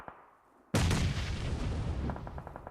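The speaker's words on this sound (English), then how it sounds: "Nades continue to pour on in over the top line" Grenade explosions in the PUBG Mobile video game: after a quiet moment, one sudden loud blast booms and rolls on as a dense, crackling rumble.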